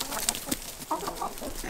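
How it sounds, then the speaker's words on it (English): Small young bantam hens cluck in short soft bursts close by, a few irregular calls over a quiet background. "catch one of these tiny little bantam hens"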